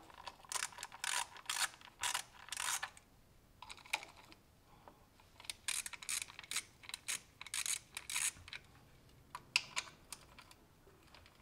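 Ratchet wrench loosening four 10 mm coil pack bolts on a Kia Optima 2.4L GDI engine, quick bursts of close, crisp clicking with short pauses between bolts.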